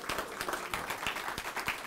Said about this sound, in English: how about an extra round of applause?